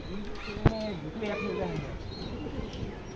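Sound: pigeons cooing

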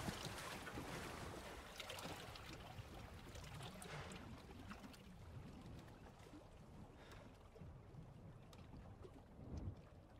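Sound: boat engine revving in Resident Evil 4 Remake video game

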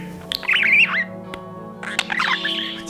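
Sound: budgie squawking and chirping

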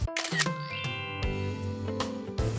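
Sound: camera shutter click

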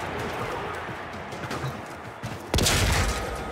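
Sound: gunfire in Warframe video game

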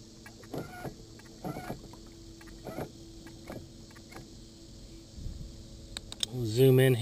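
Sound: boat moving on water while being steered

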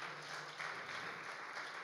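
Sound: congregation applauding to welcome a newcomer

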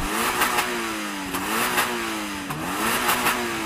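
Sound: Toyota GR86 engine revving

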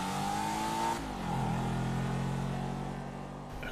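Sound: Debauchy Rapid GT sports car accelerating in video game GTA 5

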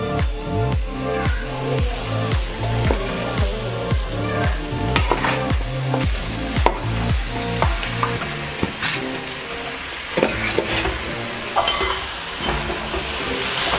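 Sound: chicken being added to tomato masala, sizzling in the pan

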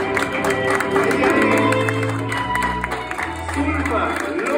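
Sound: wedding guests applauding the bride

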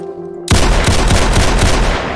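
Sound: gunfire from video game Survival Shooter

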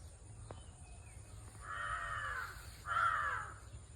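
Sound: crows cawing

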